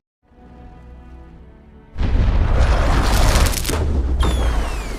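A cannon fires in the animated film Kung Fu Panda 2: a loud, sudden boom erupts after a quieter rumbling passage, followed by sustained heavy blast noise and debris-like crackle that slowly trails off.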